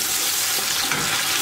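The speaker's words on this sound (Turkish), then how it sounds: "Bunları da 2-3 dakika boyunca kavuracağım." Tomato paste and pepper paste sauté in a hot pan, giving a dense, loud, continuous sizzle close up with no talking.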